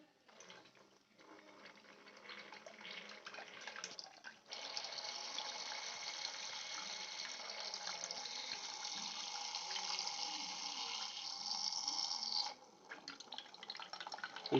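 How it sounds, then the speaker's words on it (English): Water pouring steadily from a battery-powered submersible pump, a continuous rushing flow that starts softly, grows louder and fuller around the middle, then eases back near the end. "Now see the water is coming to this side."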